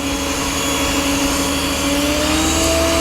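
A yeedi 3-in-1 self-emptying robot mop vacuum runs at max suction, a loud, steady motor whine with a sustained tonal hum that rises slightly in pitch, close up and continuous with no talking.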